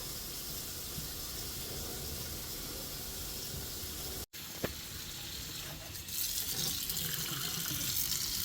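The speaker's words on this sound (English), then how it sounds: "No more obstructions. Water's flowing nicely down the pipes." Tap water runs steadily down a sink drain after a clog has been cleared, a continuous close hiss that drops out briefly midway and then returns louder and brighter, with no talking.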